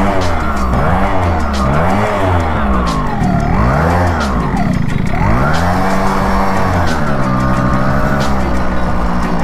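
A KTM Duke 250 motorcycle roars loudly and close by, its engine pitch climbing and dropping repeatedly as the rider revs and works through the gears.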